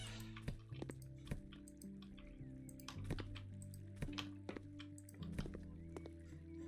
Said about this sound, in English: I was about to say I hear water.